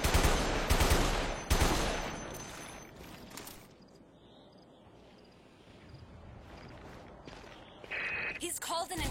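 Video game shotgun fire comes as a few loud blasts early on, then quieter ambient game sounds with faint clicks, and another burst of noisy action near the end.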